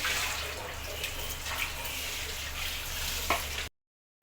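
Water pours into a hot pan of curry leaves for a fish curry, a dense rushing hiss and sputter that runs steadily for several seconds, close, then cuts off abruptly into silence.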